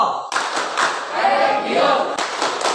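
Group clapping in the Tepuk PPK routine, a rhythmic classroom clap pattern performed by students on cue. Dense, fairly loud claps and thumps continue throughout after a short start, with faint voices mixed in.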